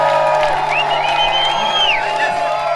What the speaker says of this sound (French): On applaudit Franck Riester